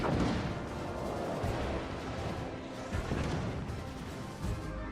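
Secondary guns on a warship firing during a World of Warships: Legends naval battle, a dense, continuous barrage of booming shots and impacts that rolls on without a break.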